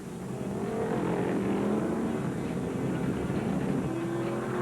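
Ron Bouchard's Vega modified race car at Daytona International Speedway during the 1975 NASCAR Modified Championship Permatex 200, a loud continuous engine roar holding steady as it passes close by.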